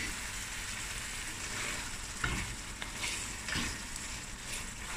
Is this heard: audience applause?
no